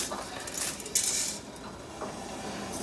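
Dry spaghetti tipped into a metal pot of salted pasta water gives a brief rattling clatter against the rim, then settles into a softer rustle and a few light clinks.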